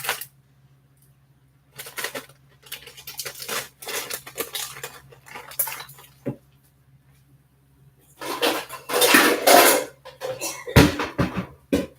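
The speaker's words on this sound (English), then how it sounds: "I'm going to add in half, 1 pound of split peas that I'm just going to rinse real quick" A pound of dry split peas is rinsed quickly, giving bursts of rattling, crunching and pouring noise with quiet pauses between them, set over a faint steady hum.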